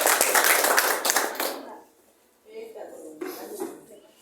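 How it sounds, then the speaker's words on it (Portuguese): A church congregation claps in a dense burst of applause during a worship service that fades out, followed by a voice speaking. "Vamos receber o servo do Senhor com os palmas."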